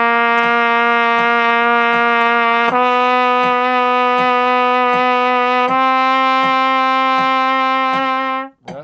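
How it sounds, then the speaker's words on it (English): A trumpet plays sustained long tones rising by half steps from low C, three held notes in a row, each steady and loud, with faint clicks over them before the last tone cuts off. "we're going to play chromatic long tones up the chromatic scale by half steps"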